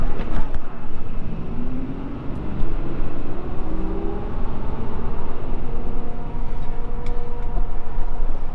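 Ford 6.7 Powerstroke diesel pickup truck accelerating hard, a loud steady engine roar with a brief tire spin, constant rumble throughout with no voices.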